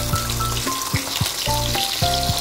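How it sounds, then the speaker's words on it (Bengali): Vangon fish fries in hot oil with a close, steady sizzle, broken by several sharp spatula scrapes and knocks as the pieces are turned over. "তো মাছ এক সাইড ভাজা হয়ে গেছে, চলুন এগুলো ভালো করে উল্টে পাল্টে নিই।"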